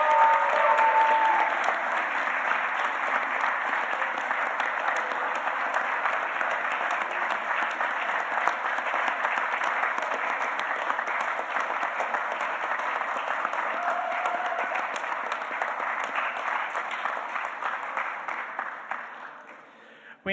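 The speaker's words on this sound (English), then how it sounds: "let's give one more big round of applause to the 2026 Top 30 Under 30" A large audience at the ACGC Top 30 Under 30 celebration gives sustained, even applause that holds steady for nearly twenty seconds before tapering off.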